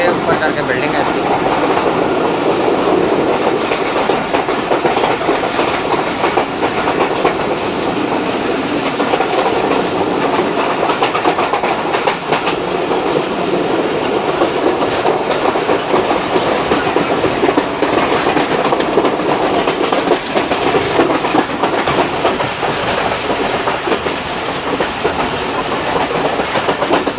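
The 14DN Awam Express of Pakistan Railways runs between Gujar Khan and Wazirabad Junction, a loud, unbroken rumble of wheels on rails with steady clickety-clack, heard close up from on board.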